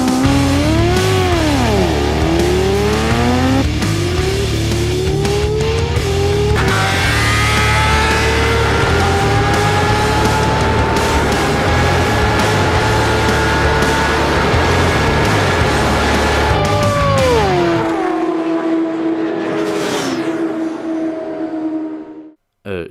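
Kawasaki ZX-10R superbike with over 200 horsepower launching from a botched racing start, engine screaming loudly as it climbs through the gears in repeated rising sweeps, near and sustained before cutting off abruptly at the end.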